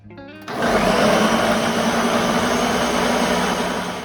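A kitchen blender starts abruptly and runs loud and steady, churning banana peels with three eggs, a cup of sugar and a cup of oil into a thick mixture, its motor droning continuously until the clip ends.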